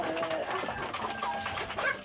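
Chickens clucking steadily at feeding time on a backyard farm, overlapping bird calls close by and continuous.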